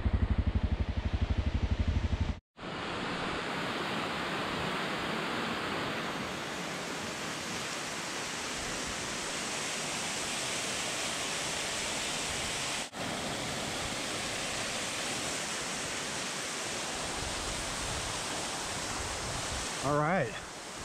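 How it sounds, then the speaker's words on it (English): Foresta Falls, a waterfall in Yosemite, roars as a dense, unbroken rush of falling water that stays loud and steady throughout, with a brief clatter near the end. "waterfall."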